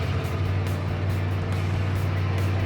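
A Dodge D100 pickup truck cruising with a steady low engine drone and road rumble filling the cabin, loud and continuous with no voices.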